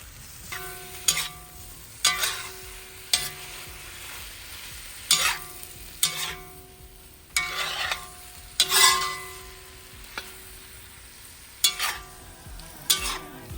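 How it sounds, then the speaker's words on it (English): Chicken gizzard and liver sauté with oyster and soy sauce and cracked black pepper is stirred in a pan, a low sizzle broken by a dozen or so regular scraping strokes of the spatula, with faint music behind. "Mix them well and stir for a few minutes."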